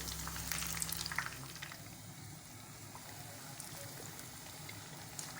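Chicken pakoras deep fry in oil, giving a soft, steady bubbling sizzle with a burst of crackle near the start, then an even, fairly quiet frying hiss.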